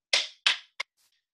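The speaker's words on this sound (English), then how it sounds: "sandpaper blocks here and I'm going to play eighth notes on it" Two scratchy brushing strokes of sandpaper blocks played in eighth notes, followed by a shorter tap, dry and close, then a faint brief rustle; no voices.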